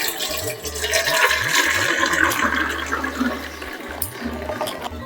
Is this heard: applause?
no